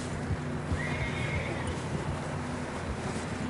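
A video game horse whinnies in a drawn-out neigh over a dense, steady rumble of wind and hoofbeats.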